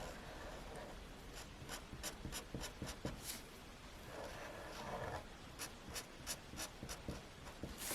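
A marker or pencil scratches across paper in short repeated strokes, close and quiet, with a faint background hiss and no talking.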